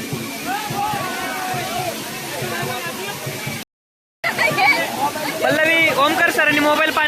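Rushing water from a monsoon waterfall at Malshej Ghat roars steadily and close, with people talking loudly over it throughout and a brief cut of silence midway.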